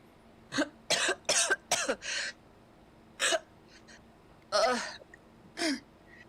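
A series of harsh, gasping coughs performed during a live script reading, in short bursts: a quick cluster of four or five, then scattered single coughs after pauses.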